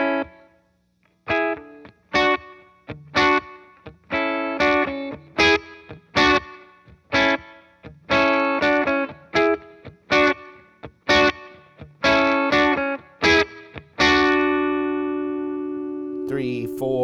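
Electric guitar driven through a RAT distortion pedal plays a riff in loud, punchy chord stabs with gaps between, ending on a long sustained chord.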